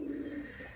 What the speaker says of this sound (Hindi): कबूतर बाहर आ चुके हैं